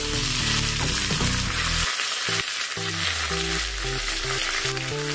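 Mustard seeds, dried red chillies and curry leaves crackle and sizzle in hot ghee for a South Indian rasam tempering, a loud continuous frying hiss. A backdrop of steady musical tones plays beneath the sizzle.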